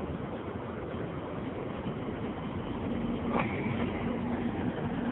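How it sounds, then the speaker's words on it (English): Freight train rolling along Metro Rail tracks, a steady low rumble and rattle of rail cars heard from nearby, with one brief metallic screech partway through. "That is a train on the same tracks as the Metro Rail."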